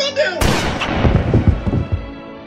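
A single loud gunshot in a comedy film scene, a sharp blast with a reverberant tail, with agitated voices before and after.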